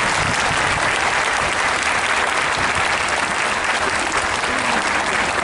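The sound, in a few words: audience applause for stage-winning relay runners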